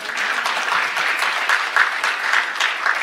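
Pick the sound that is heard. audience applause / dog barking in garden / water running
audience applause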